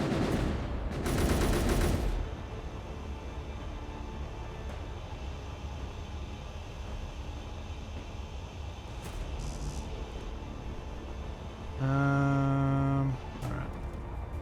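Video game combat in Assertive Acquisitions: a dense burst of rapid gunfire opens, followed by a steady rumbling engine bed, a couple of faint shots and a loud droning tone from a missile, with no voices.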